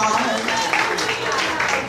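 Steady crowd applause at a church service fills the whole stretch, dense and continuous without a break.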